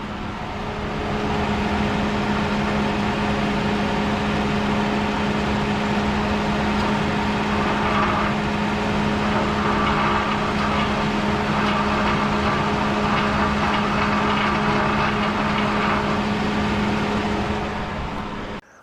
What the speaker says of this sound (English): there's a little bit of a rattling coming from the engine area